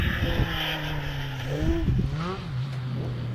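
A Lotus twin cam 1600 engine in a Brabham race car at a hillclimb revs and shifts through gears, its pitch climbing and dropping, loud and close with a steady rasping drone.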